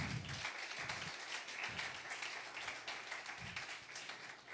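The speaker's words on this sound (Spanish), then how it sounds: "Démosle un fuerte aplauso al Señor." Faint, distant applause from a church congregation during a Spanish-language sermon, a soft continuous patter of clapping with low thumps underneath.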